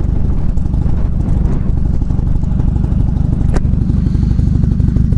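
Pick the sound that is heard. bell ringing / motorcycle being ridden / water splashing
motorcycle being ridden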